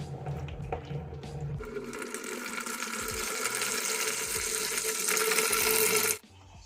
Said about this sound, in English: I need to collect some water